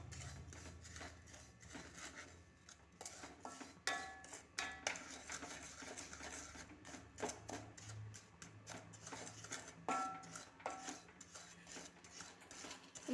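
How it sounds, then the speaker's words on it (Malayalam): Salt is stirred and heated in a pan for roasting chickpeas, giving irregular scraping and clinking of a utensil against the pan, fairly faint and close. "അതിനുശേഷം ഉപ്പ് നമ്മൾ നല്ലതുപോലെ ഇളക്കി ചൂടാക്കിക്കൊണ്ടിരിക്കണം."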